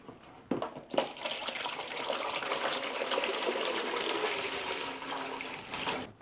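Filtered water pours steadily into a container for making ice, a loud, continuous gushing splash that starts after a few clinks and runs to the end without talk.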